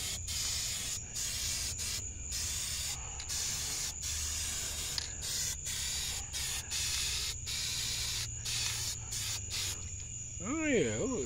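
Spray paint hisses onto a Honda Accord valve cover in short, close, evenly repeated bursts, with a brief faint whistle-like sound near the end.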